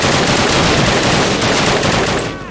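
Rapid automatic gunfire from a Call of Duty PC match, a dense, loud, continuous burst that holds for over two seconds before tapering off near the end.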